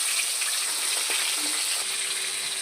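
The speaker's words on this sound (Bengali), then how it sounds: "এটাকে কড়া একটু তেল দিয়ে দিয়েছি মাছটাকে ছেড়ে দিলাম" Pieces of bhola fish fry in hot oil in a wok, a soft, even sizzle running continuously through the short stretch without speech.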